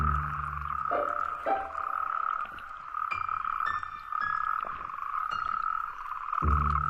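Male natterjack toads call at night in a dense, continuous chorus of loud rolling croaks, with several individuals overlapping close by and no talk.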